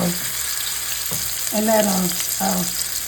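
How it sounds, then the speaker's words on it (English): Salisbury steak patties laid into hot bacon grease to brown, a steady close frying sizzle with a few louder crackling surges, with no talking. "I'm going to lay them in this hot grease so they can brown a little."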